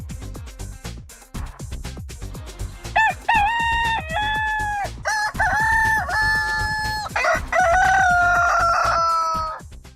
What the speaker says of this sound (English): I'm playing the rooster